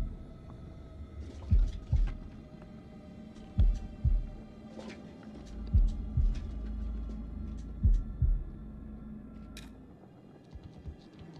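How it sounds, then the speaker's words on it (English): A heartbeat mechanic in the video game House of Ashes thumps in slow, evenly spaced double beats, deep and booming, about every two seconds over a faint ambient hum. "Oh, heartbeat."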